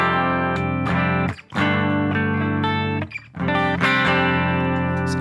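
A clean electric guitar tone with a compressor, played through a BOSS GT1000 into a Mackie ProFX12v3 mixer, rings out in loud, sustained strummed chords separated by two brief gaps.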